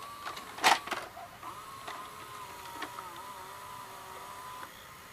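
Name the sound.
cassette being inserted into Orion VR0120 VCR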